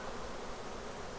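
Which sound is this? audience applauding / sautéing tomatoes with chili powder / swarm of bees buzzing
swarm of bees buzzing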